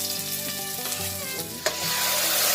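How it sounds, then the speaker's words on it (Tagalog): Udon noodles and sardines fry and get stirred in a pan over an outdoor farm cookstove, a loud continuous sizzle with scraping stirs and one sharp clack of a utensil, no talking. "udong at saka sardinas ang niluluto namin"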